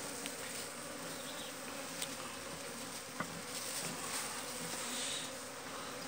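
Honey bees buzzing during a honey harvest from a hive, a continuous close swarm drone with a few light taps and knocks, steady throughout and without speech.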